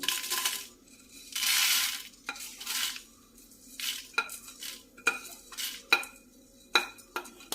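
Coriander seeds and chillies roasting in a hot pan for a varutharacha curry, stirred with a metal spoon: irregular scraping and clinking strokes with bursts of dry sizzle, close and clear, with no talking.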